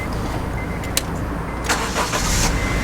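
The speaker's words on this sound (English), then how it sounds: "It cranks right up after I get it jump started" A 2001 Honda CR-V after a jump start, cranking briefly then catching and settling into a steady idle, loud and close with a continuous low rumble.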